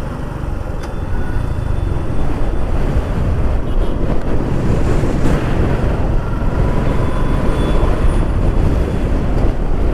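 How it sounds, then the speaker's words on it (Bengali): Strong wind on a rough sea beach at a naval beach area, a loud continuous roar and buffeting against the microphone with surf churning underneath and no voices. "অনেক বাতাস এখানে।"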